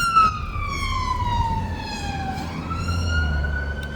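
A loud ambulance siren wails nearby, its pitch sweeping slowly down and then rising again over low traffic rumble.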